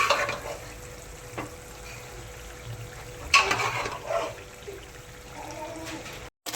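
Boiled vegetables hit a hot pan of pav bhaji masala and cook with a continuous hiss and sizzle, broken by a few louder stirring scrapes and splashes.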